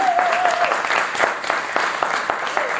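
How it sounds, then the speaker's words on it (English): Audience applause at a Rotary club performance: steady, close clapping from a crowd, continuous throughout with a brief tonal whistle-like note at the start and no talk over it. "So give them a big round of applause."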